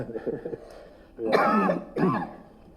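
A couple of harsh, throaty coughs close to the mic, following a few quiet spoken syllables.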